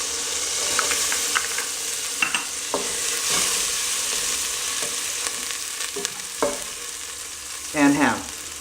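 Minced garlic, onion and ham sizzle steadily in a pan for pinto beans, a continuous frying hiss with light scrapes and clicks from a wooden spoon throughout, and a brief voice near the end.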